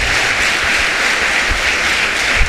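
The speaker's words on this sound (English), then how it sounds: "Give her a very big hand of applause." Audience applause for journalist Fabine Kuya at a Montserrado debate, a steady wash of clapping from a crowd that holds evenly throughout.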